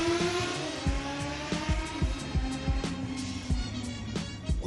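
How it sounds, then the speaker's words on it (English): Motorcycle engine passing nearby, a steady revving drone with rising and falling pitch and rough bursts throughout, fairly loud with no talk. "That stupid motorcyclist making all that noise."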